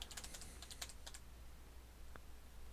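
Fingers tap on a computer keyboard entering a string of wrong passwords, a quick burst of faint clicks followed by one lone keystroke after a pause.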